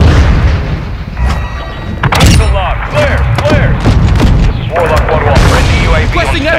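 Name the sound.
missile strike explosions in Modern Warfare 2 video game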